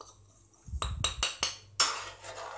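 Little millet kanji being stirred in a cooker pot, with several close metallic scrapes and clinks of a spoon against the pot in an uneven rhythm, set against a low hum in a quiet kitchen.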